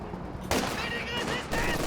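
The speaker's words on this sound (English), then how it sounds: "Sherman and P4 trading shots here, but front v front." Sherman and Panzer IV tanks trade fire in Company of Heroes 2, with a sharp blast landing midway and another about a second later. Steady battle noise fills the background under a faint voice.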